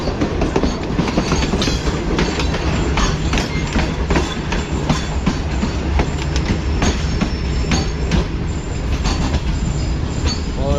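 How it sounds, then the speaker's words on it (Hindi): Tezgam express train pulling into the main platform at Multan Cantt railway station on a hot sunny day, a steady loud rumble of rolling wagons with wheel clatter and squeals throughout, no talk. "मेन प्लेटफॉर्म यानी प्लेटफॉर्म नंबर 3 पर अब पहुंच रही है ट्रेन हमारी आज"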